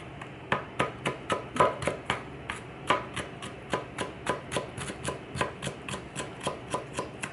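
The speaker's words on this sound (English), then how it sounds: "And then chop it sideways." A knife chopping fish on a cutting board in a home kitchen, a steady run of about two dozen crisp, close thuds at a brisk, even rhythm.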